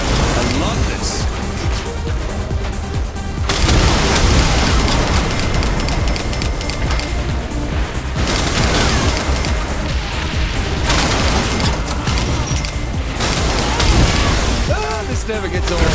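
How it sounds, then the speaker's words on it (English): Loud, chaotic video game noise from Saints Row The Third Remastered fills the whole stretch: a dense barrage of explosions, crashes, bursts and screams with no pause. "How are ear-splitting explosions and screams of agony soothing, Bobby?"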